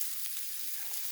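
Food sizzles steadily in a frying pan over a backcountry lakeside campfire, a quiet, even hiss with no voices.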